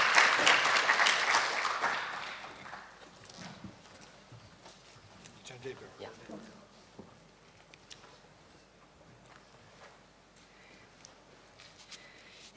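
Applause from the audience at the UNIDO Global Alliance on Artificial Intelligence for Industry and Manufacturing signing ceremony, loud at first, then thinning into scattered claps and faint room noise.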